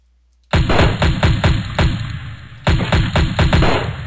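A newly picked-up gun firing in the Raze 2 video game: loud, close shots in rapid bursts, roughly seven quick rounds, a short pause, then another fast string of shots.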